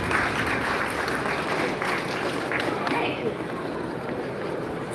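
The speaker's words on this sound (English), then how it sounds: "Let's give a round of applause for Professor Karen Liu." An audience at a robotics forum in Taipei's World Trade Center Hall 1 claps for a keynote speaker, dense, sustained applause filling the hall and tapering slightly toward the end.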